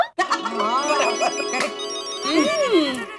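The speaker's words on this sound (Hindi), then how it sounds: "फोन आया।" A melodic ringtone from a telephone in a family sitcom household, loud and close, plays steadily for about three seconds with a voice briefly overlapping near the end.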